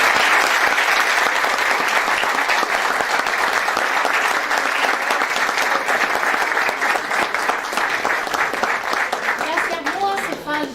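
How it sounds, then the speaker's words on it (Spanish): An audience in a lecture hall, gathered for a talk on the Ukraine–Russia conflict, breaks into loud, sustained applause lasting around ten seconds, dense clapping that gradually thins as a voice begins to speak at the end. "Un fuerte aplauso para..."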